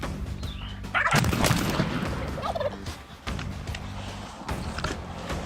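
Wild turkey gobbling during a spring turkey season hunt, a loud rattling gobble bursting out near the one-second mark and trailing off, with softer outdoor background and possible low hunter murmurs.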